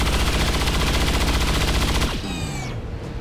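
Sustained rapid automatic weapon fire in the strategy game XCOM 2, a dense loud stream of shots that cuts off and leaves a descending whine and ringing tail.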